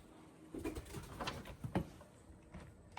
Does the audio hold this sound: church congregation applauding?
no